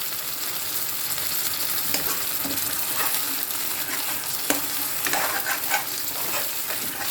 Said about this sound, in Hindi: सॉस हमारा पक रहा है